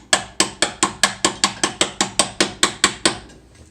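Ratchet wrench clicking steadily as a reverse-threaded adjustable panhard rod is screwed in on a Nissan Micra K11 rear suspension; about fourteen crisp, evenly spaced clicks, close and clear, fading out at the end.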